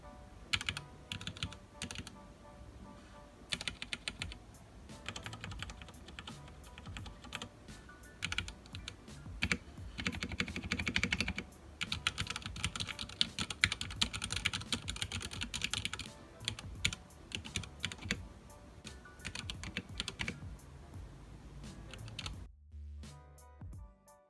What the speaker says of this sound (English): now we are going to go to the typing test